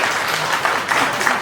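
An audience at a poetry recital before a Shankaracharya bursts into continuous applause, a thick unbroken patter of many hands filling the whole moment with a faint murmur of voices beneath.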